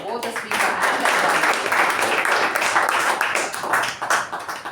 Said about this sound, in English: Can we have a round of applause for both the speaker and the